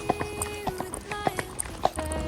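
Horse hooves clip-clop in a quick, uneven rhythm during a sunset horseback ride near St Fabien sur mer, with several close, sharp strikes over a faint background and no talking.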